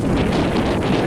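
Strong wind buffets the microphone in a steady, loud rumbling roar on a windy day beside a cornfield, with no other sounds.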